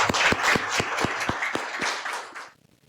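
A small group applauds a writer after a literary interview, several distinct close claps sounding over a thinner patter, then stopping abruptly into silence.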